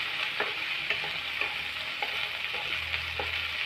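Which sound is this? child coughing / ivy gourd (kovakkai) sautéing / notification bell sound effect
ivy gourd (kovakkai) sautéing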